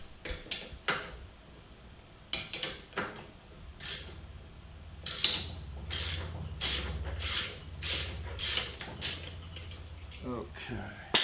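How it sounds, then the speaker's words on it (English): An Allen wrench working the handle of a Mark 7 650 autodrive unit loose, heard as a close series of metallic clicks and ratcheting ticks at an uneven pace over a low hum. "I'm going to insert a Allen wrench in the handle,"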